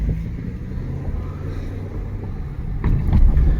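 A 2025 Toyota Grand Highlander Hybrid Max Platinum rolling over a speed bump at about 22 mph, a low steady cabin rumble that swells into a heavier thump and rumble near the end.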